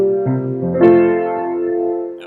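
A short instrumental musical excerpt in a different key from a musical, closing on an imperfect authentic cadence whose top note avoids the tonic; sustained harmonic chords shift twice before a held final sonority, with no talking.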